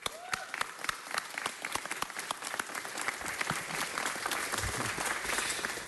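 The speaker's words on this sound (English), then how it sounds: "they deserve a round of applause for that" Audience at a city council meeting applauding students, scattered individual claps at first that build into steady, fuller applause from a room of people.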